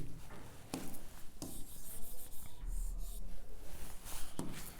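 Chalk or marker writing a physics formula on a classroom board, with repeated scratchy strokes and sharp taps as each symbol is formed, close and fairly loud, with no talk over it.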